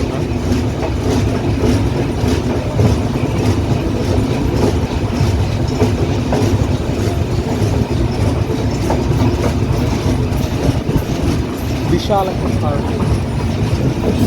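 The nonstop Banalata Express from Dhaka to Rajshahi runs on the rails with a loud, continuous rumble, rattling carriages and steady clickety-clack heard from inside the moving train.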